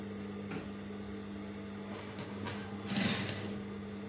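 A sewing machine stitches around children's pants, a steady motor hum with a brief louder burst near the end, close and alone with no talk.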